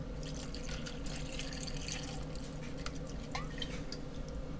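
Two ounces of tequila poured for a peach margarita, a faint close trickle and dribble of liquid against a quiet room.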